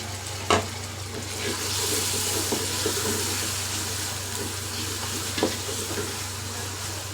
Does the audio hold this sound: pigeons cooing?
no